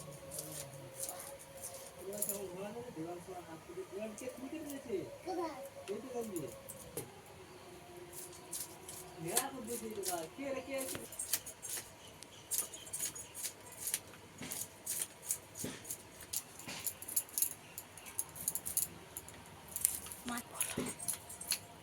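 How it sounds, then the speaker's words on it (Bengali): Scales are scraped slowly off a hilsa fish with repeated rough scratching strokes and small clicks, close up. Some low tonal background sounds or faint voice fill the first half. "ইলিশ মাছের আঁশটাকে আমি আস্তে আস্তে করে ছাড়িয়ে নেব"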